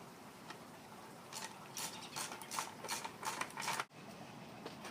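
Ratchet wrench tightening nuts on a 3x3 nail drag, a faint run of quick metallic clicking bursts in the middle stretch ending with a sharp stop, no talking.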